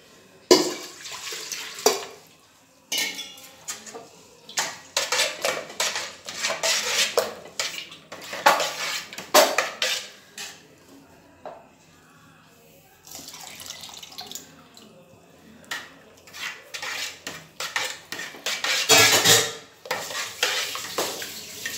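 Rice flour batter for rice vathal stirred in a metal pot, with scraping and clinking spoon strokes in uneven bursts, water splashes and pouring, and short quiet pauses between.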